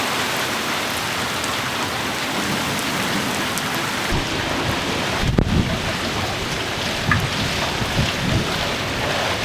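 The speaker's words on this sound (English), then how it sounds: "We've had a lot of rain coming through again." Steady rain falls outdoors in a continuous dense hiss, with a brief low rumble and a few heavier patters partway through; no voices.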